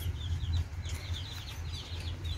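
Small chicks peep in repeated high chirps over a low steady hum, close and continuous, with no talking.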